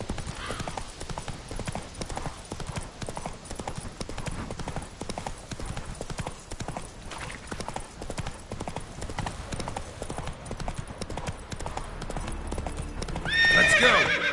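Roach, the horse in The Witcher 3, gallops in a fast, continuous clatter of hooves and lets out a shrill neigh near the end, with no talking.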